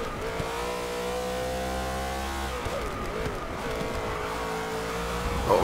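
A BMW race car in Forza Motorsport 6 accelerates hard, its engine note climbing in steady rising harmonics with gear changes, loud and close throughout with no talking.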